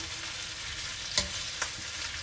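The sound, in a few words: beef frying and being stirred in a pan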